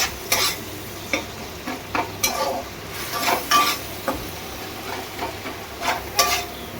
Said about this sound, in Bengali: দিয়ে এবার মশলাটা ভালো করে কষিয়ে নেব